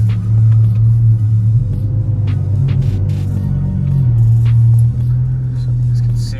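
An Audi R8 with a V10 engine idles loudly with a deep, steady rumble and throb, heard close up and continuous, and a brief swell midway as the revs rise before settling back.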